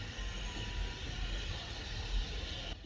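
A heritage railway train on a 300-year-old line pulls gently away from a station on level track, a steady low rumble of rolling coaches heard faintly from inside, with no talk.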